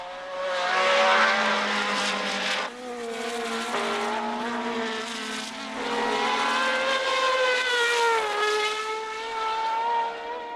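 Cosworth-engined 1970 Formula One race cars, McLaren among them, scream past on track. Several high-revving engines wail loudly with rising and falling pitch and a brief dip between passes. No one speaks.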